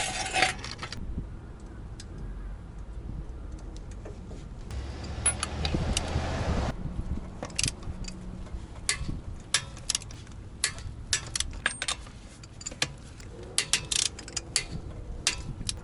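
Metallic clicks and rattles come from a torque wrench tightening a wheel on a Toyota Century fitted with custom 245/40/20 tires. The sound is a fairly faint scatter of ratchet ticks and clinks over a low garage hum.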